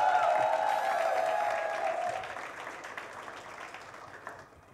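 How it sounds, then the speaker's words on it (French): Audience applause following a call from the host at a family-style gathering, a dense wash of clapping with a sustained tonal hum that gradually fades over several seconds. "Prouvez-lui ça, s'il vous plaît, par des applaudissements."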